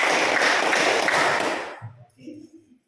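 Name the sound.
class clapping hands four times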